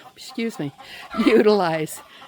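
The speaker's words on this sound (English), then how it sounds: "And more chickens back behind here." Chickens on a homestead in Mexico, a few close, loud clucks and a drawn-out squawking call in short bursts.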